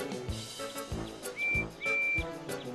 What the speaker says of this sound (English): Percy's got such a cute whistle.